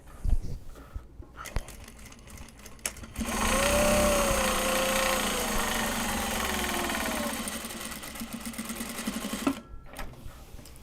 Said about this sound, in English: you need to start winding the bobbin